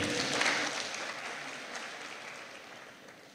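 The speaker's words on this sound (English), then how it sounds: "A round of applause for him." A crowd applauds at a university inaugural lecture, a dense wash of clapping that starts strong and slowly fades, with no speech over it.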